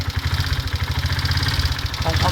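A Honda Sonic motorcycle with a carburetor fault idles close by, its engine putting out a steady, rapid low thumping throughout.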